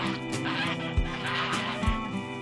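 Domestic geese and chickens in a farmyard flock, the geese fighting over a nest: steady close clucking and squawking with a couple of sharper honking bursts standing out over the din.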